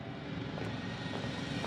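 A loud drill in the sci-fi video game The Invincible, a continuous deep rumbling roar that drones steadily throughout.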